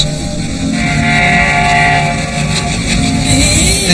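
The Lifeline Express, a hospital train in India, rumbles steadily and loudly up close with a sustained whistle-like tonal ring riding over the low rolling noise throughout.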